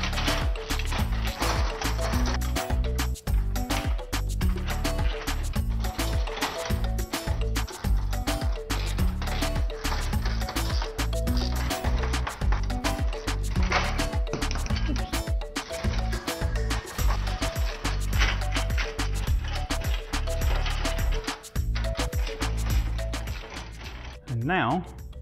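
A hand ratchet tightens bolts on a vehicle chassis, its pawl clicking in a fast, steady, continuous stream at close range and ending in a brief pause.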